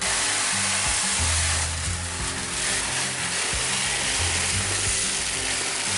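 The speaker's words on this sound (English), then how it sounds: "we'll quickly add 20 pounds of rice" Twenty pounds of dry rice pours into a storage bucket, a steady, close, loud grainy rush of hiss that holds for several seconds with slight swells in intensity and no voices.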